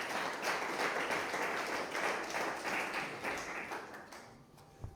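A church congregation applauding together, a dense, sustained wash of clapping that holds steady for several seconds before fading near the end.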